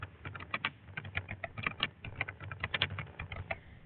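Keys tapped on a computer keyboard in quick irregular bursts of clicks, close and clear with no voices over them.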